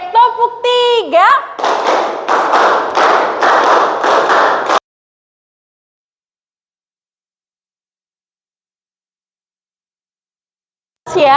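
A classroom of students claps together on a teacher's count in a quick run of sharp, rhythmic bursts for about three seconds after a brief call from a voice, followed by silence.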